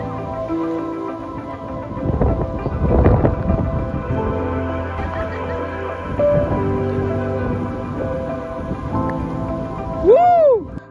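Rain and gusting wind sweep over a forest trek, a broad hiss swelling in waves beneath prominent music, with a brief sharp chirp near the end.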